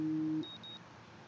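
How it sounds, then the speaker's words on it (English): Two short, high electronic beeps from an alarm clock in the video game Life Is Strange, sounding close and clean after a brief low hum, with no voices. "The dreaded alarm clock."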